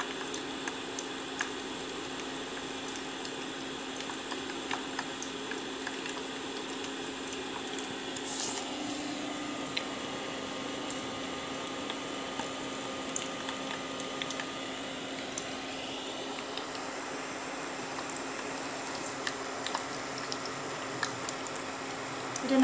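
Medu vada frying in oil kept only moderately hot: a steady, even sizzle and soft crackle runs unbroken throughout, fairly quiet, with no one talking.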